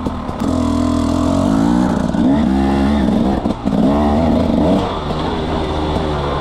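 A 300 cc dirt bike engine on an abandoned motocross and enduro track revs up and holds, a loud, close, throaty drone with wavering pitch and a brief dip midway.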